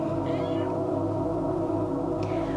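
A chubby house cat meows softly a couple of times, faint and brief over a steady low hum in an indoor room during a yoga session.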